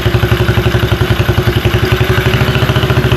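A 125 Blazer engine idles close by with a steady, rapid, even putter, its pulses repeating loud and continuous with no voices over it.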